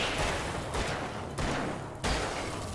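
Gunshots in the video game Alan Wake's American Nightmare, a few loud booming blasts in quick succession with short gaps, dense and reverberant throughout.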